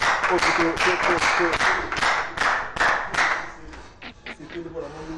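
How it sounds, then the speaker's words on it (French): An audience claps for a singer in a short burst of applause with sharp, uneven hand claps, while a voice talks over it throughout. "Applaudissements pour l'artiste quand même"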